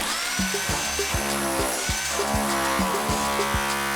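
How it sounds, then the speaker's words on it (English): A rotary hammer breaking up bathroom floor mortar hammers in steady rapid pulses, close and loud, with repeated sharp impacts over a continuous motor whine throughout. "All right, we got a rotary hammer."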